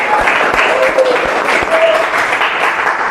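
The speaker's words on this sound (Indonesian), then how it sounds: "Tepuk tangan untuk kita semua." A group in an Indonesian madrasah classroom breaks into applause, a dense, steady clapping that runs throughout, with voices mixed in underneath.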